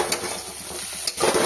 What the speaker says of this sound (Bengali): লো ফ্লেমে মশলাটা আস্তে করে ভালোভাবে কষাবো